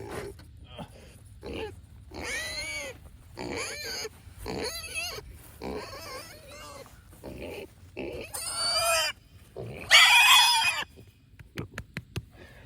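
Pigs on a small farm grunt and squeal in repeated short bursts, close up, with a loud shrill squeal near the end, chickens and a dog faintly in the mix, and people talking between the calls.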